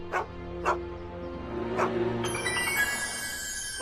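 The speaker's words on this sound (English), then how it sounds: "Officer Parker, that's the stray that keeps escaping the kennel." A stray dog in the Back to the Future video game barks and yips in a few sharp, separate bursts at close range, followed by a bright, chiming musical swell.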